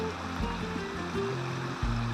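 A small woodland stream forking off into a main river near Haw Creek Falls, a steady close rush of flowing water with a few low thumps, no talking.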